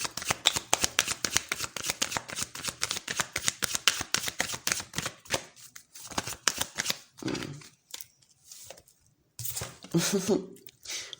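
An oracle card deck is shuffled in rapid, rhythmic riffling bursts for several seconds, close and fairly loud, thinning out toward the end into scattered card slaps and a brief soft voice.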